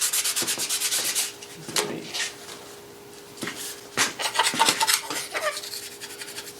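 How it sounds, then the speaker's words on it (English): A small plastic scraper rasps residue off the wooden stock of a Remington 31 12-gauge shotgun during restoration, in close, uneven strokes with short pauses between bursts. "I'm just using a little plastic scraper to get those off."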